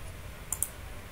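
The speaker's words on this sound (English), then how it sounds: "debug your application, clicking on start button" A computer mouse clicking the start button to debug an application in Visual Studio 2017: two sharp, close clicks about a tenth of a second apart against a quiet background.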